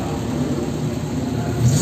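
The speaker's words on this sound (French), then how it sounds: "on entend la Peugeot." A Peugeot car engine at a Magny-Cours classic car event, a steady mid-pitched running hum that swells slightly near the end, with no voices over it.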